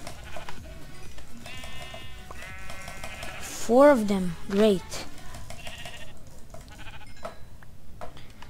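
Sheep in the Minecraft video game bleat twice, loud and close, in wavering calls over background game music, with someone talking before and after.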